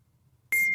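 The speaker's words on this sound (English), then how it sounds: "Do you know what that beeping is? Do you hear that?" A single electronic beep starts abruptly halfway through, a steady high tone held loud and close until the end, after near silence.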